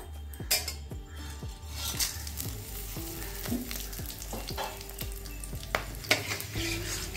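Whole spices sizzle in hot oil: two dried red chillies, peppercorns, cardamom, cloves and cinnamon crackle steadily with sharp pops and clinks of a spoon against a pot, close and fairly loud, no talking.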